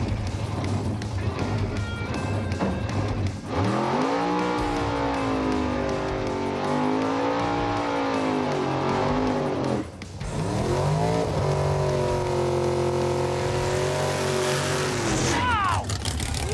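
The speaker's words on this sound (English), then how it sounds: "What a burnout!" A drag-race car doing a burnout at the start line, its engine revving hard and wailing up and down in pitch for over fifteen seconds, loud and close, with tire squeal blended into the roar and a brief dip near the middle.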